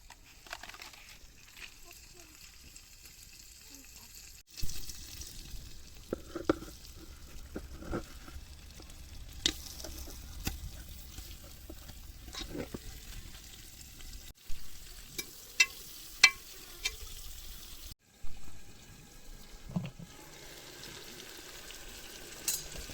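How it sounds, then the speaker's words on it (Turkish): Meat frying in oil in a pan while plov is prepared, a steady sizzle with bursts of crackle and occasional stirring and utensil clinks, close and moderately loud, with a brief pause partway through. "Bir qədər yağ əlavə etdikdən sonra üzərinə ətləri yığacam."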